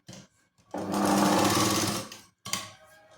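An electric sewing machine stitching a folded strip for a katori blouse: a short whir, then a longer steady run of rapid needle chatter, and a final brief burst after a pause, loud and close.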